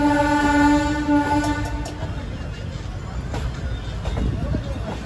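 An Indian Railways train bound for Tiruchendur, past Tirunelveli, sounds its horn loudly at the start, then rolls slowly with a low steady rumble and occasional clanks as a voice talks over it.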